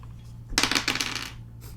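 Several dice tumble across a table during a tabletop roleplaying game, a short loud clatter of rattling bounces lasting about a second, followed by quiet room tone.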